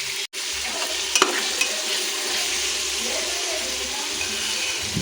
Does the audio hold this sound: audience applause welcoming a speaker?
no